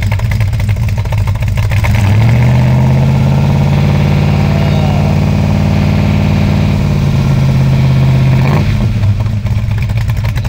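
A 1966 Ford Mustang coupe engine idles just after a cold start, loud and close, with a steady low rumble that shifts pitch briefly near the beginning and end.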